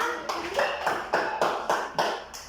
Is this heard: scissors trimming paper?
no